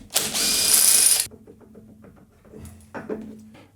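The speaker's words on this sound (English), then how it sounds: "you can use a rattle gun on the inner to try and get the bolt out" A pneumatic rattle gun hammers at the crank pulley bolt on a Honda K-series engine, one loud burst of about a second followed by quieter mechanical clicks and clanks.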